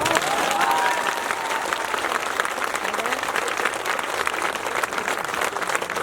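An audience at a comic poetry gathering breaks into sustained applause, many hands clapping in a steady dense wash, with a voice briefly heard over the start.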